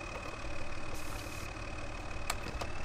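A tractor engine idles in Farming Simulator 2013, a steady mid-pitched rumble with a faint high whine, continuous and fairly quiet with no talking.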